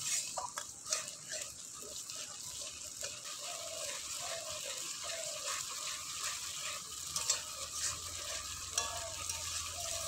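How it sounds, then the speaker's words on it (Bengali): Spice masala with tomato paste and salt frying and being stirred in a pan for a Bengali rohu fish curry with potato and cauliflower, a continuous close sizzle broken by repeated scraping strokes of the spoon. "লবণ দিয়ে খুব ভালোভাবে মশলাটা আবারও কষে নেব"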